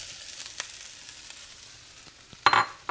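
Rice dropped into a hot pan for fried rice gives a brief loud sizzling burst near the end, after a stretch of quiet low cooking noise with faint stirring ticks.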